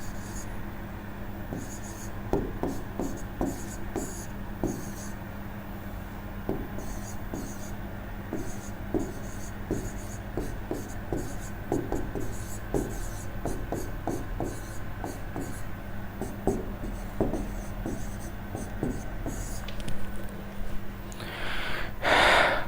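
Pen or pencil writing by hand on paper while working through maths questions, a steady scratchy scribble of short strokes and taps running throughout at close range, fairly quiet, with no talk.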